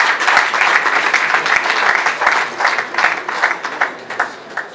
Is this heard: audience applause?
yes